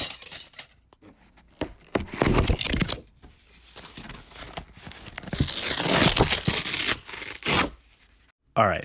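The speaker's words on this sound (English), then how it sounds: "I also pitched up 4 different cardboard rips to make sharp hissing sounds like this" Cardboard being ripped, with several sharp, hissy tearing bursts, some long and some brief, overlapping into a close, bright, crackling texture with short gaps between them.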